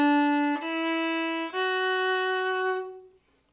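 A viola plays three sustained bowed notes in a slow rising step pattern, clear and resonant, fading out at the end.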